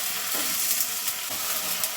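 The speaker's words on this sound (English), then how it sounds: "I am adding some vegetable oil, roughly 3 tablespoons. I'm going to fry the onions." Onions fry in about three tablespoons of vegetable oil for a steak and mushroom pie, giving a steady close hiss and crackle with light stirring clicks and no voices.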